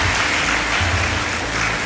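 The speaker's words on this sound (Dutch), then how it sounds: "Dames en heren, een applaus voor Corrie Konings" Studio audience applause on the ice-dancing show Sterren Dansen op het IJs, a loud, continuous burst of clapping filling the whole short stretch.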